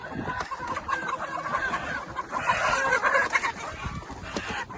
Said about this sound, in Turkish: Bayram Bey Karataş Tavukçuluk'tan aldığı 800 adet Lohman Sandy yarkalarını indiriyoruz